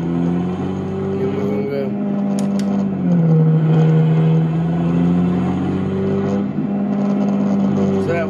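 Peterbilt 389 truck hauling a load of rock, its diesel engine droning loudly and close from the cab, pitch sagging then rising as it pulls, with talk over the engine.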